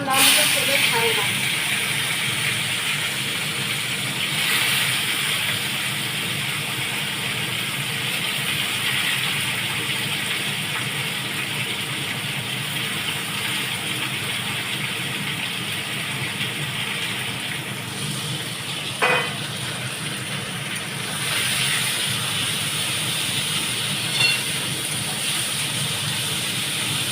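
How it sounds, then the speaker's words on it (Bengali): Bitter gourd hisses in hot oil as a loud, steady, unbroken frying sizzle that lasts throughout, with a couple of brief clinks partway through. "এবার আমি করলামটা তেলে ছাড়লাম।"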